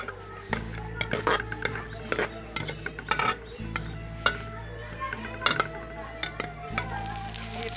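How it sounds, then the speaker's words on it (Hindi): Onions frying in hot oil in a pot, with a soft sizzle under repeated metal clinks and scrapes of a spoon against the pan, close and irregular throughout. "ऑयल गरम हो गया है, मैं इसमें अब प्याज शामिल कर रही हूँ।"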